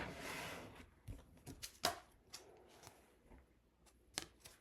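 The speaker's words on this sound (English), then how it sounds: "Let's just cut a card for our Aquarius friends." Tarot cards being cut and handled, a series of soft, quiet papery slaps and riffles at irregular intervals with a few sharper snaps, close up and low in level with no talking.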